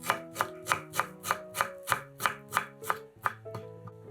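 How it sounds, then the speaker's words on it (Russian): A knife chops through a bunch of fresh dill on a cutting board in about a dozen crisp, evenly spaced strokes, close and clear with no talking. "Нарезаем пучок укропа."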